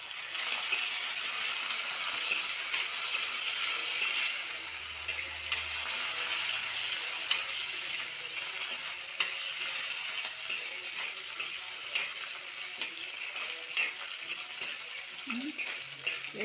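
Curry leaves, cumin seeds and dried red chillies fry in hot oil, giving a steady, even sizzle and crackle that runs unbroken throughout with no talking over it.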